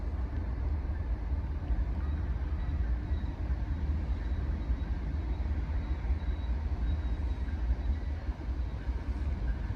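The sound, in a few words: westbound coal train passing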